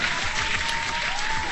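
A short burst of applause from a few people, brisk and even, with faint tonal background noise.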